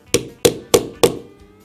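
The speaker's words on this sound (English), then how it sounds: "Now we will fasten the belt loop with the rivets." Four evenly spaced sharp taps set rapid rivets into a 4 to 5 ounce leather belt loop, each crisp knock followed by a short ringing decay.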